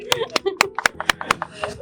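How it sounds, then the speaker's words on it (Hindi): A few sharp hand claps ring out in a quick, steady rhythm of about seven beats, close by, with a voice sounding alongside them. "बहुत बहुत तालियां भाई"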